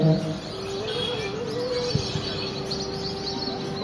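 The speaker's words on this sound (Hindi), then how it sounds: "आवाज भी तो आ रही है चिड़िया।" Birds chirp and coo outdoors during a religious discourse gathering, soft calls repeating over a steady background hum, fairly faint and without clear speech.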